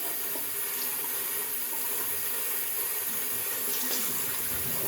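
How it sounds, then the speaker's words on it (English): A tap runs steadily into a bathroom sink while a washcloth is rinsed, giving a constant close hiss of flowing water with no speech. "Rinse out my washcloth. And hit my face one more time with some colder water."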